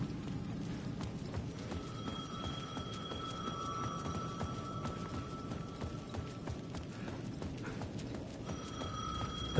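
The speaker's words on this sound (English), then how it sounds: "The payphone at the edge of the plaza was ringing again." A payphone rings in the video game Alan Wake 2, with faint repeated electronic ring tones over a dense, steady crackling background noise, continuous and low in level.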